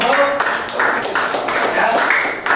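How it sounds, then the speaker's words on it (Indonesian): A classroom group claps in a few uneven bursts, fairly close and loud, with some talking mixed in. "Oke, kita berikan tepuk tangan untuk kelompok."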